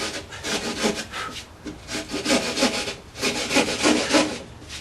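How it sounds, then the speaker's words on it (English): A handheld sheetrock saw cuts through drywall for recessed eyeball can light fixtures, giving a steady run of rasping, scratchy strokes close by with a loose back-and-forth rhythm and no talking. "So on this other side, I'm going to cut it using my sheetrock saw."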